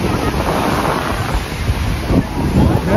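Ocean waves wash onto the beach at Puri, a loud, rushing surf with heavy wind buffeting the microphone, swelling near the end as water comes close; no clear talk over it.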